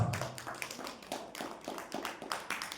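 Hands clap in a rough rhythm at a church congregation, a run of quick, fairly faint claps with slightly uneven timing, heard from a distance.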